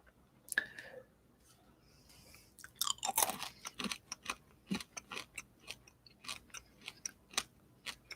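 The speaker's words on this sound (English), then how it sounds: "I'm sorry if you hear my chewing." Close, soft chewing and crunching of food in a quiet room, with a steady series of small irregular clicks and bites continuing through the whole stretch.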